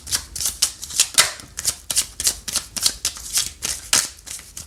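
Tarot and oracle cards are shuffled by hand in a quick rhythmic series of crisp riffling bursts, about a dozen close snaps repeating steadily with no voice over them.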